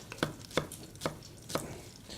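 A knife slices a leek thinly into half rounds, giving four evenly spaced crisp cutting taps on a board, close and fairly quiet over a low background hum.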